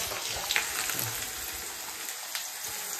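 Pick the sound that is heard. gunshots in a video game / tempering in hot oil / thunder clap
tempering in hot oil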